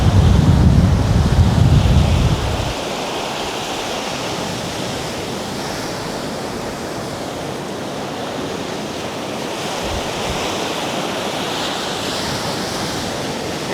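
Ocean surf rolls onto the beach at Costa Mujeres in Cancun, Mexico, a broad steady wash of waves with a heavy low wind buffet on the microphone at the start that then eases into a constant roar.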